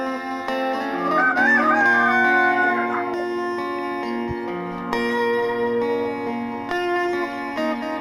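A Splash Australorp rooster crows loudly and close by in a chicken coop, one long drawn-out call followed by further clucking and crowing-like calls.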